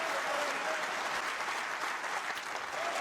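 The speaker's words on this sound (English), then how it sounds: "what a reception Ronnie O'Sullivan gets from this Crucible crowd" Sustained, dense applause from the Crucible snooker crowd for Ronnie O'Sullivan at the 2012 World Championship, a steady roar of clapping filling the hall throughout.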